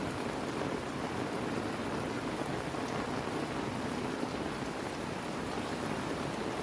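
Steady rain in the Philippines falls as a dense, unbroken hiss, loud and even throughout with no voices.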